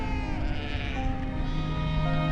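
Sheep bleat in a high Himalayan pasture in Ladakh, several wavering calls overlapping steadily and fairly loud against a continuous flock murmur, with no clear talk.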